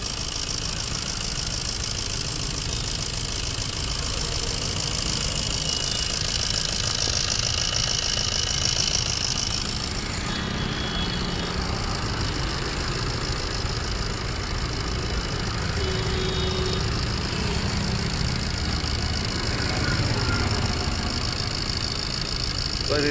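A Maruti Swift Dzire engine idles steadily and close by, with an even, continuous mechanical drone and faint ticking that hold for the whole stretch without revving.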